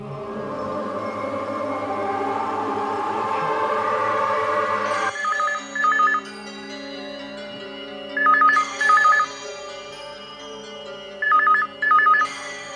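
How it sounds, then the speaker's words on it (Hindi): A telephone rings in paired electronic trills repeated three times indoors, clear and moderately loud after a fading musical tone, with no voices. "पूजा बेटे, कब से घंटी बज रही, किसका फोन हो सकता है?"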